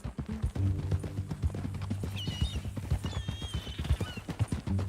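A horse in Red Dead Redemption 2 clops along in a steady rapid hoof rhythm, joined by a loud whinny partway through, close and clear.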